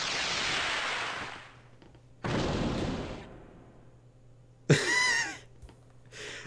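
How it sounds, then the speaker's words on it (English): An explosion animation bursts onto the title screen of the Pawn Tycoon iPad game, with three separate booming blasts: a long one at the start, another midway, and a sharper crack near the end. "Just a really nice explosion animation explodes into a logo"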